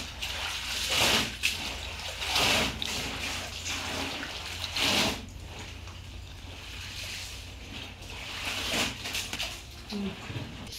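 Water splashes and sloshes as clothes are washed by hand from a bucket, a close, uneven churning with a few louder surges and soft talk in the background.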